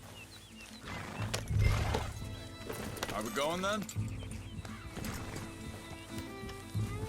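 In the video game Red Dead Redemption 2, a horse whinnies loudly in the middle while hooves clop nearby, with someone speaking briefly over the animal sounds.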